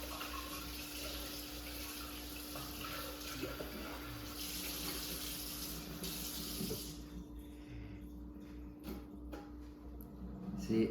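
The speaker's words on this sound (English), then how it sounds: "So I'm filling it up with water real quick over here." Tap water runs steadily into a plastic butter container, a continuous close hiss and splash that fills most of the span before cutting off, followed by faint clinks and handling sounds.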